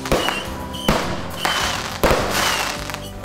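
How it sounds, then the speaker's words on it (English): Fireworks are set off from a dock in Virginia, Minnesota, giving three loud, sharp bursts, each trailing into a crackling, fizzing shower, close by and with no talk. "a few of my in-laws started firing fireworks off the dock"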